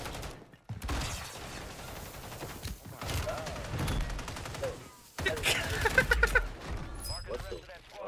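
Gunfire bursts from Warzone 3 on Rebirth Island, with rapid volleys and sharper shots that come and go across the stretch, mixed with game music and effects, while a player talks over parts of it.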